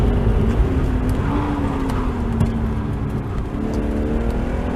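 A car engine revs hard under a manual downshift, a steady loud drone with rising and falling harmonic pitch, close and continuous with no talk.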